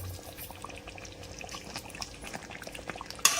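Stock pours into a simmering chicken milk curry and gets stirred in, making a quiet liquid pouring and bubbling sound with soft stirring taps and a sharp clink at the end.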